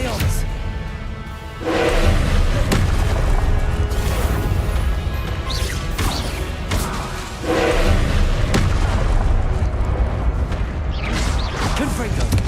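Confringo fire-spell explosions in Hogwarts Legacy combat, a series of loud booming blasts and thuds in quick succession over dense battle noise, with a voice speaking amid the fight.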